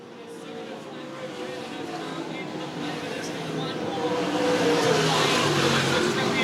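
Limited sprint cars race around a track in a feature event, their engines a steady, swelling drone that grows louder toward the end, with a commentator's voice over the noise.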